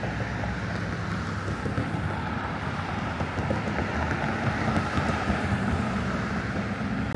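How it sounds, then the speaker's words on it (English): Steady, dense rumble of passing traffic with wind buffeting the microphone, continuous and fairly loud throughout, no voices. "Pardon the noise of all of the traffic here."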